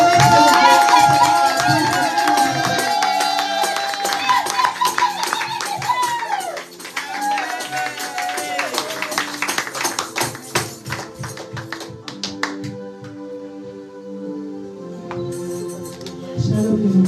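A crowd cheers, whoops and claps in welcome as someone speaker is received at a French-language Christian women's conference, loud and dense at first with broadband clapping, then thinning toward scattered claps and voices with a melodic tone underneath.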